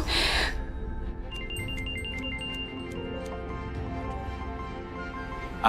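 A mobile phone rings with an incoming call, a tinkling melodic ringtone that repeats steadily over a low background hum after a short burst of noise at the start.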